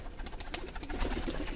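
Pigeons kept in a rooftop loft coo softly and close by, with a rhythmic run of low throaty calls and a little fluttering and shuffling in the background.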